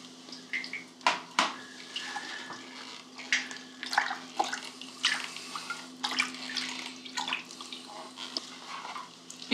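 Water splashing and trickling over a Kallitype print being rinsed in a darkroom tray, a steady close pour with irregular splashes and drips throughout, no talking.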